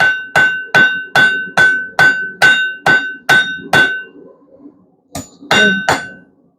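A hammer strikes hot steel while forging a steak flipper, a steady run of about ten ringing blows, a brief pause, then three more loud, clanging hits.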